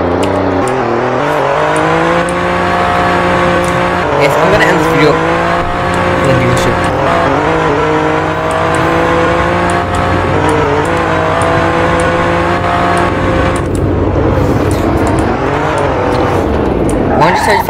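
A 2021 Alfa Romeo Giulia Quadrifoglio engine drones steadily with rising and falling tones throughout, heard from inside the car as a person talks over it.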